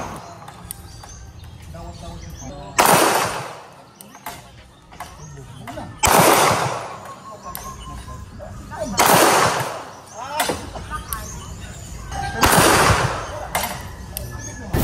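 A Daewoo DP51 9mm pistol fires four loud, evenly spaced single shots at an outdoor range, each sharp crack ringing out and decaying over about a second, with quiet background between them.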